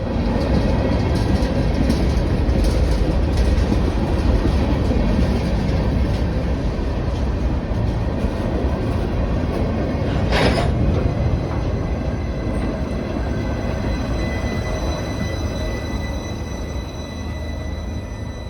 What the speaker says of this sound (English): the next and final catch of this evening in Greencastle is a Norfolk Southern manifest